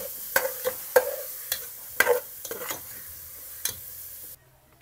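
Minced pork sautés in a pan at home, with scattered spoon scrapes and taps against the pan over a faint background sizzle, the stirring close and irregular before a sudden cut to near silence.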